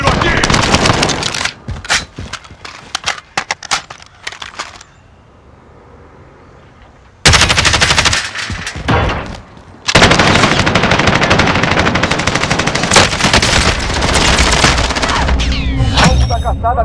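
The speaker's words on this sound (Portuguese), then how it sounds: "Levando tiro aqui." Call of Duty: Warzone gunfire crackles loudly in rapid automatic bursts and single shots, with a brief quieter lull before the shooting resumes and continues steadily to the end.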